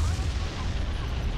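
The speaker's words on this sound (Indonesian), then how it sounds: "meriam utama." Main cannon fire from the USS Missouri battleship in an online naval video game, a dense, rumbling boom that fills the short clip with heavy low-end roar and no clear pause.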